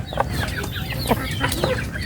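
Several Bangkok and native village chickens cluck and chatter close by in short, irregular bursts, with a few sharper squawks standing out.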